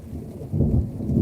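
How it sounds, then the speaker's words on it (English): Deep rolling thunder from an approaching thunderstorm, a low rumble that swells louder partway through and keeps growling, with a faint wash of rain beneath and no voices. "that sounds like it's getting closer. The thunder, definitely."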